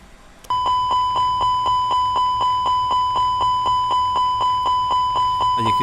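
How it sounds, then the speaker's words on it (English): A master warning alarm in an Aerosoft A320 cockpit in FSX sounds during a fire test as a loud, steady string of about twenty-five identical electronic chimes. The chimes repeat rapidly and evenly with no talking. "So I can demonstrate the master warning just now by initiating a fire test."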